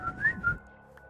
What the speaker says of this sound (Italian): Ho sentito qualcuno che fischiava.